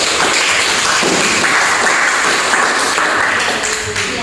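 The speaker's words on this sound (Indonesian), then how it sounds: "Tepuk tangan." Classroom audience applauding at the close of a lesson: dense, steady clapping that fills the whole moment at a constant loud level, easing slightly at the very end.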